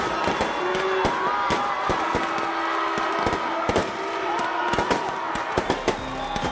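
New Year's Eve fireworks over the Asia Afrika tourist district in Bandung, crackling and banging in dense repeated bursts with sharp pops throughout, over a steady background roar of the crowd.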